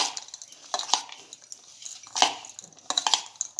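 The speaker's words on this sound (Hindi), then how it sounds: "नमक और शक्कर डालूँगी। और इसे अच्छे से मिक्स करूँगी।" A spoon stirs salt and sugar into sabudana khichdi in a pot, giving soft, irregular scrapes and clinks of metal against the pot, close and fairly quiet.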